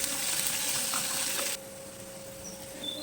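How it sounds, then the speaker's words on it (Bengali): Grated ginger and crushed green chillies fry lightly in oil, a bright sizzle for the first half that drops abruptly to a much quieter simmer, with no talking. "আদা আর কাঁচা লঙ্কাটাকে হালকা একটু ভেজে নেব"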